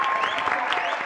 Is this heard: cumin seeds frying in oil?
no